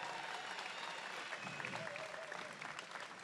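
A crowd applauds athletes at the 2016 GIO Oz Day 10K race, a steady, dense wash of clapping that carries on for the whole stretch without pause, with faint cheering mixed in underneath.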